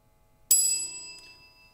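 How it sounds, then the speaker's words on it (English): A single bell struck once in a chamber piece gives a bright, clear ding with ringing overtones that slowly decays into silence. "When the bell rings,"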